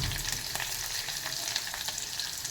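Tempering spices, green chilies and onions sizzle in hot oil for pepper rasam, a soft continuous crackling fry with faint stirring, quiet and close, no voices.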